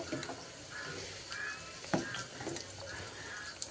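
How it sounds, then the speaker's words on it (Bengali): Onions frying in a pan for dal give a steady sizzle throughout, with a few brief clatters and faint background sounds, no voices. "এদিকে পেঁয়াজ ভেজে নিচ্ছি"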